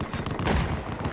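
Tank gunfire in Battlefield 4 multiplayer Rush mode, a dense burst of booming shots and rattling impacts packed into about a second, loud and chaotic with no talk.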